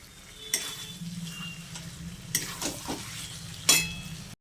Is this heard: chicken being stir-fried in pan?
yes